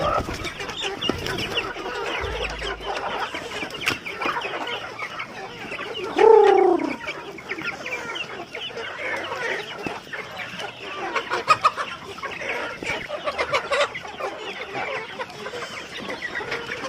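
Backyard chickens clucking and chattering close by at feeding time, with one louder squawk rising above the steady flock noise.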